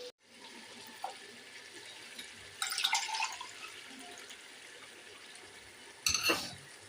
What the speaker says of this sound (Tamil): இப்போ நம்ம தேவையான அளவுக்கு தண்ணி ஊற்றிக்கலாம்